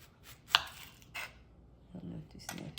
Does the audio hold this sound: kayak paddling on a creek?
no